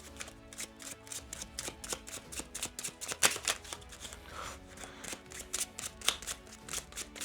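Playing cards are shuffled in a long stretch of soft, rapid flicking and riffling, fairly quiet and uneven, with a faint hum beneath.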